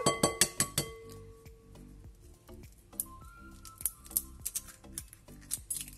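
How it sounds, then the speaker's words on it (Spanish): A hen's egg is tapped and cracked for pastry dough, giving a quick run of sharp, close clicks and knocks on a bowl, followed by scattered lighter taps and clinks with no talk. "vamos a romper un huevito."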